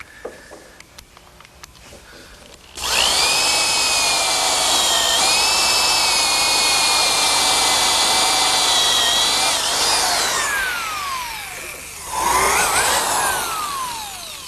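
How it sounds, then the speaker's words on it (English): A drill with a Forstner bit bores a flat-bottomed counterbore into wood, a loud sustained whine lasting several seconds that dips briefly as the motor winds down, then spins up again. "a counterbore is best made with a Forstner bit, and because of its shape, it cuts a nice flat bottom hole"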